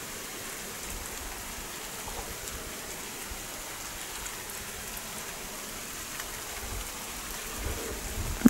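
Summer rain falls steadily in a village, a soft continuous hiss of drops on surfaces with no voices, ending in one brief sharp tap.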